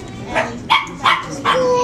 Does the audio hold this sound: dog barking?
yes